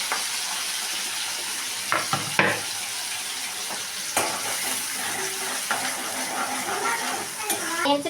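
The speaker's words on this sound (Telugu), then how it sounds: "ఆనియన్స్ గోల్డెన్ బ్రౌన్ కలర్ వచ్చేంత వరకు ఫ్రై చేసుకోవాలి మంచిగా." Onions and green chillies fry in hot oil in a home kitchen: a continuous close sizzle broken by several quick stirring clacks and scrapes of a spoon against the pan.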